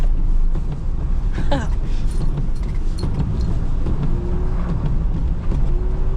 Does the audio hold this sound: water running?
no